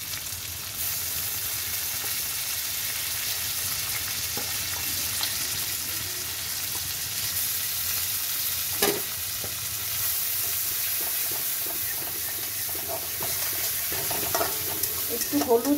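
Tomato added to hot oil in a pan with a bay leaf, cooking Bengali egg golatiya, gives a steady close sizzle and frying hiss throughout, with occasional stirring clinks on top.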